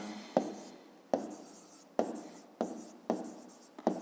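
Pen or pencil writing on paper, jotting a geometry note about rays for a fifth-grade math exercise: six crisp, separate strokes with short scratchy tails, close and fairly quiet, no voice.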